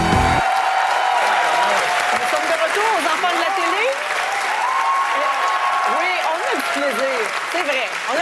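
A loud TV studio audience cheers, shouts and applauds in a continuous dense roar, with whoops and raised voices running throughout the crowd noise.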